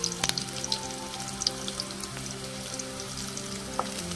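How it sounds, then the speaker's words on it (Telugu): Green chillies and cumin seeds frying in oil in a pan while making buttermilk rasam, with a steady sizzling crackle and a few sharp pops, close up with no talking. "ఈ పచ్చిమిర్చి బాగా వేగాలండి నూనెలో"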